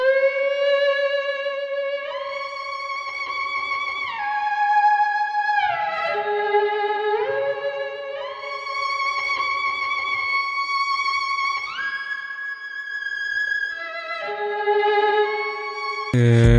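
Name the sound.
slow sad violin melody, software instrument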